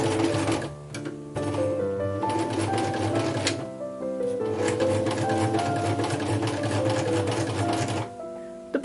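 A sewing machine runs steadily, stitching binding onto Regency-era short stays (a corset), with brief pauses near the start and end and a continuous mechanical hum throughout.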